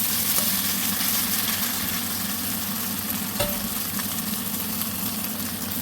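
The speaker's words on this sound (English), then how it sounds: "Okay, now it's in with our meat." Beef for a peppered beef stir fry fries in a pan with a loud, steady, hissing sizzle that holds evenly throughout, with one brief clink partway. No one speaks.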